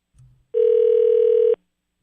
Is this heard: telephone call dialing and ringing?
yes